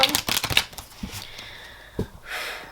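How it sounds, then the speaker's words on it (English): Tarot cards are shuffled close to the microphone, giving quick riffling flutters and soft slaps in uneven bursts, fairly quiet. "let's start shuffling through your cards"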